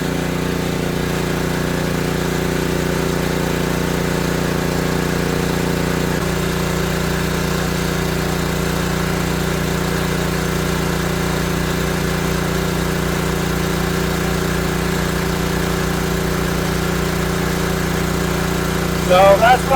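An ETQ portable generator engine runs at a steady, droning idle close by. Its pitch shifts slightly partway through, and a brief clatter comes just before the end.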